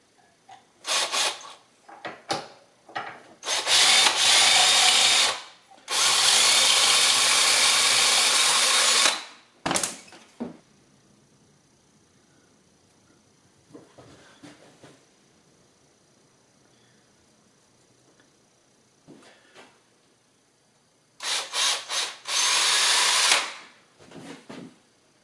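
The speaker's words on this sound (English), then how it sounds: "this is slightly awkward to drill" A power drill bores mounting holes for an electronic instrument cluster in a 1976 Mazda RX-5. It runs in several loud bursts of a few seconds each, separated by quiet gaps with faint handling noises.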